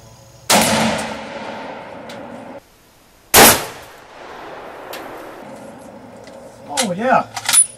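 A Ruger M77 Hawkeye rifle in .25-06 fires two sharp, loud gunshots a few seconds apart, each with a decaying ring, followed by metallic clinks and a brief voice near the end.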